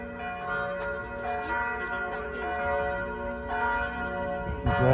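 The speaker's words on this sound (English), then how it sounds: "This is where the bells are coming from." Church bells ringing in Krakow, Poland on a cold sunny January morning, a dense sustained peal of overlapping tones with strikes layered throughout, loud and close, with faint voices in the background.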